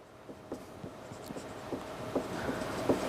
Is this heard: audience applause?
no